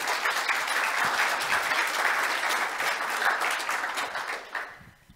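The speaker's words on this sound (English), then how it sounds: "Please give a warm round of applause right now" Conference audience applauding to welcome a speaker before a talk, steady dense clapping throughout that fades out near the end.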